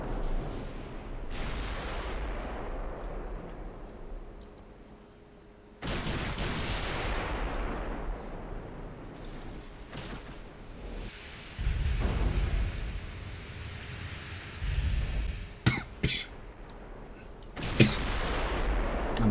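Ship guns opening fire in a naval warfare video game, heavy booming blasts with long rumbling decays, several salvos spread across the stretch, followed by sharper cracks near the end.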